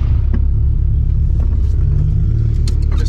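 A modified turbocharged VW Saveiro pickup rumbles loud and close as it accelerates, a heavy low engine drone with some rattling and clatter on top.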